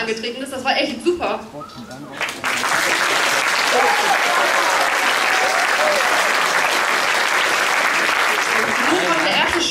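Audience applause fills a youth concert hall at a song contest show, starting after a brief murmur and swelling into dense, steady clapping that holds loud for the rest of the stretch.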